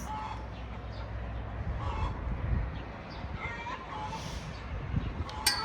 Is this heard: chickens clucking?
yes